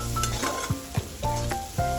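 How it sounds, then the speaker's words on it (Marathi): Chopped tomato sautéed in a hot pan with a spatula gives a close, busy sizzle, with rhythmic scraping strokes about every quarter second over the frying hiss. "हा टमाटासुद्धा मी आता चांगला परतवून घेतलेला आहे"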